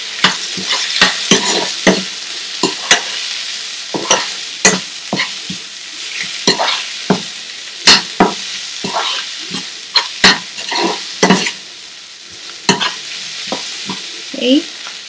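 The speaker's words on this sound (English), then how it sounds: "Mix all this and allow the tomatoes to get nice and tender" Tomatoes and spices for a prawn vindaloo are stirred in a frying pan over a slow to medium flame, with a loud, close run of irregular scraping strokes over a soft continuous sizzle.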